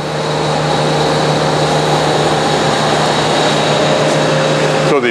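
A bandsaw runs with its blade guides removed, giving a loud, steady motor whine and hum with a constant pitch that holds for several seconds, then shifts briefly right at the end.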